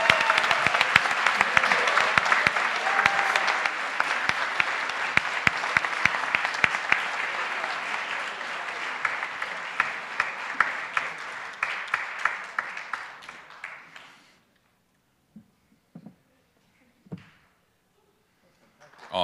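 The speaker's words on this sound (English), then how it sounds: "how about a big round of applause for 10X coming as the runner-up?" Big round of audience applause for the runner-up at an entrepreneurship competition, dense clapping for about thirteen seconds that thins to a few scattered claps before falling silent.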